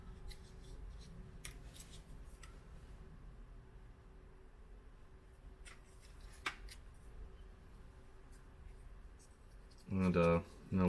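Adhesive tape being pulled and pressed onto a leaking unloader and pressure switch part of an old Craftsman air compressor, faint scratchy rubbing and short crackles with quiet pauses, ending in a louder burst of tearing near the close.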